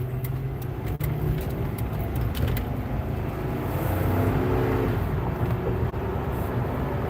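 A 2006 Mercury Grand Marquis LS with 80,000 miles drives along in a steady, even cabin rumble of engine and road noise, with a couple of faint clicks.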